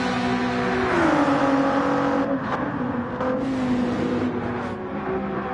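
Racing car engines in Gran Turismo 7, a loud, close, high revving roar with pitch falling and rising through gear changes and shifts, continuous throughout.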